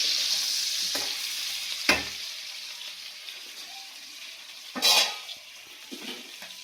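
Spice paste and crab fry together for a home-style Bengali crab curry, giving a constant bright hiss of oil. A few sharp scrapes and clatters of a spatula against the pan break through the hiss, and no voices are heard.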